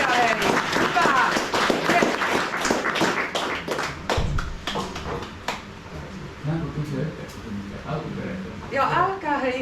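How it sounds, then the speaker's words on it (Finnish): A lecture audience at a Finnish astronomy event claps in a burst of sharp, uneven hand claps, loud at first and thinning out, with a voice talking over the later part. "Antakaa itsellenne aplodit."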